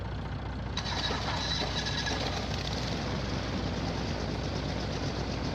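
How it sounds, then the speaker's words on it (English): A farm vehicle's engine runs steadily in Farming Simulator 19, a constant broadband rumble with a brief start-up change near the beginning and nothing else over it. "Engine started up on this thing."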